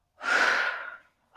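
A single deep breath during a hip-focused yoga session, drawn in and released as a smooth, close, breathy whoosh lasting about a second, with the next breath starting right after.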